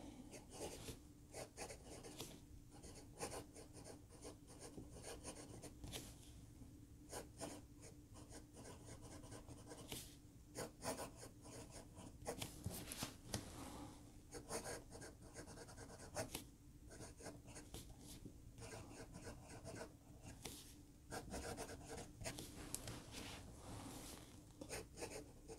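Fountain pen nib scratching and gliding across paper in a writing sample, a soft, continuous close-up scritching with small rhythmic strokes and brief pauses, no talking.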